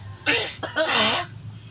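Two harsh coughs in quick succession, close and fairly loud, the second longer and rougher than the first, with quiet around them.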